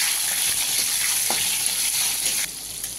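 Ginger paste and chopped tomatoes sizzle steadily in hot oil in a home kitchen pan, a loud continuous frying hiss with light stirring scrapes, easing slightly near the end.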